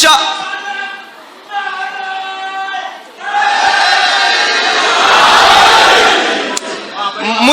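A large crowd shouts a religious slogan in unison, loud bursts of massed voices rising and falling, with a lead voice calling out between the group responses at a devotional gathering.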